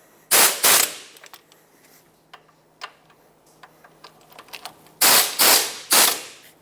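Wheel hub assembly bolts on a Mazda 6 being snugged with a ratchet, loud close bursts of rapid clicking at the start and end, separated by quieter scattered mechanical ticks.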